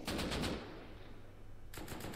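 M249 machine gun fire in the game Rust, with a loud rapid burst at the start and another burst near the end. A low rumble sits between the bursts, and there is no talk.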